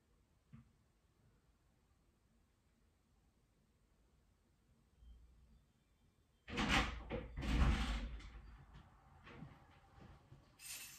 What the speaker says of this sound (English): He shut his van door.